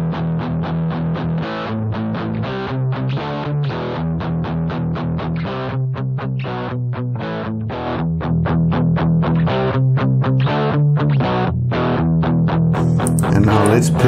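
Electric guitar played through a Boss GT-1000 multi-effects unit with its distortion block switched off, giving a lighter tone: steady strummed chords and picked notes in a continuous rhythmic pattern, close and fairly loud, growing slightly louder toward the end.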